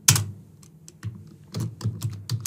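Keystrokes on a computer keyboard while a Zendesk support ticket about a PHP issue is written, several clustered taps and short bursts, close and fairly quiet, with no voice over them.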